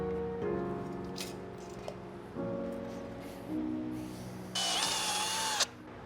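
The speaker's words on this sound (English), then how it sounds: "I'll need to cut a hole right here for the eye bolt" A power drill cuts a hole for an eye bolt through an oven rack frame, with short whirring bursts of the motor starting and stopping, then a higher, louder spell of drilling near the end.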